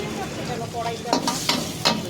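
Onions sizzle and fry in a pan for a chicken stir fry, a steady close hiss broken by a few sharp stirring scrapes toward the end, with no talking.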